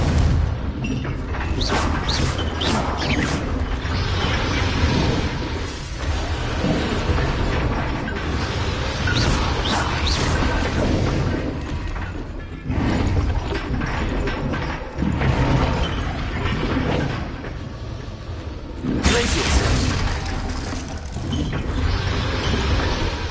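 Confringo fire-blast spells in Hogwarts Legacy: loud, dense game action with repeated booming bursts, crackling impacts and mechanical clanks over a constant rumbling bed, with sharper blasts near the start, midway and near the end.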